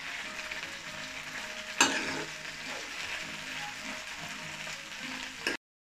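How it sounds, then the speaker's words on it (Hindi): Cauliflower and peas deep-fry in a pan of oil with a steady, moderately loud sizzle. A brief clatter breaks in early on, and the sound cuts off abruptly near the end. "देखिए मैंने गोभी और मटर को अच्छी तरह से डीप फ्राई कर लिया है।"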